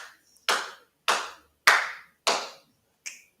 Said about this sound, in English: Now, if I clap 5 times,